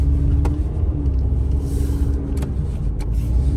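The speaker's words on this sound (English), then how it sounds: "let's go for this test drive" A used car on a test drive gives a steady, close engine rumble and road noise throughout, with a few brief clicks and no talk.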